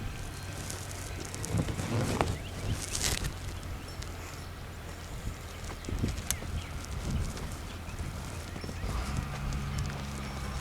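A horse lunging around a round pen on soft ground, its hooves thudding in a steady, fairly faint rhythm against outdoor wind noise, with no clear talk.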